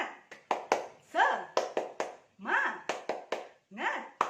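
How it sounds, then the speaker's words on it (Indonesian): A group clap routine, the tepuk semangat cheer in an online kindergarten lesson, gives a string of sharp rhythmic hand claps interleaved with a chanting voice, some claps in quick pairs and others spaced with short pauses. "Kita tepuk semangat dulu ya."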